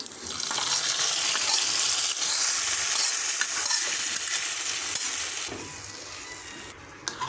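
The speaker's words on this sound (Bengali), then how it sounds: "রসুন কুচি, পেঁয়াজ সবগুলোকে ভালো করে ভেজে নেব" Chopped garlic, onion and fenugreek sizzle loudly in hot oil as a tempering for Comilla-style beef trotter nehari, a dense steady crackle that holds for several seconds, then eases off near the end.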